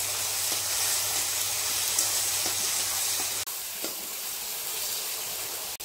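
Ground coriander, ginger and chilli pastes sizzle and hiss steadily in a pan for chicken curry, a close, continuous frying sound with a brief break partway through and no talk.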